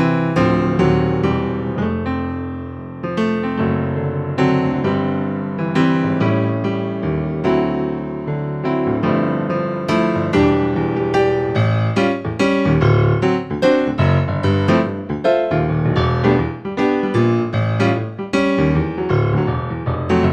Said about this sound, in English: This is called the bright concert piano sound.